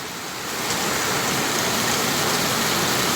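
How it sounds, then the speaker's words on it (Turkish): Steady rain pouring down outdoors in Aydın, a dense continuous hiss that swells in the first half second and then holds loud and even, with no voices. "İlk yağmurumuzu aldık."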